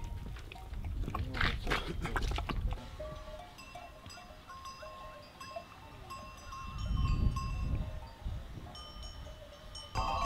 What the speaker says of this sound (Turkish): Karadeniz'in bir numaralı koyunu.